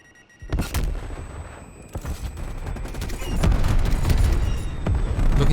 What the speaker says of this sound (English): Taking final shots.